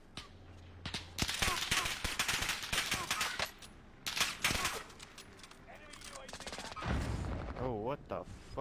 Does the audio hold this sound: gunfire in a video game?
yes